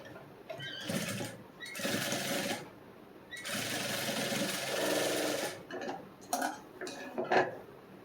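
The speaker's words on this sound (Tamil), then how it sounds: "திருப்பி விட்டு படிமான தையல்." A sewing machine stitches a back-open princess-cut blouse in repeated bursts of fast, close mechanical whirring, each run lasting one to two seconds, with short pauses and a few brief clicks between runs.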